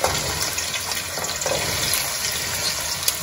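Half a cup of oil poured into a hot pan, giving a loud, steady hissing sizzle close up for the whole stretch.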